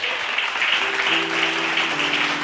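A church congregation at a Tamil Bible study meeting claps in a steady, even burst, with a sustained low tone, like a keyboard, entering partway through.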